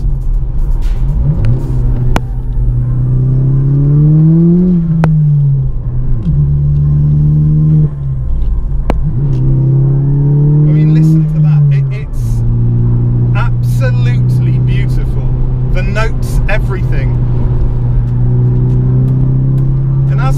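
A heavily modified 2010 Mk6 Volkswagen Golf GTI engine with a short-shift gearbox revs up and drops repeatedly as gears change, its pitch climbing and falling in close, loud sweeps with brief clicks between shifts.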